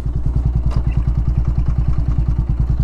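A motorcycle engine with a 220 engine runs close and loud, chugging with a steady rhythmic thump as first gear goes in, with a brief faint click partway through.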